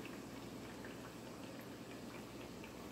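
Raviolis frying in hot oil give a steady, dense crackle and sizzle that stays even and close throughout, with no voices over it.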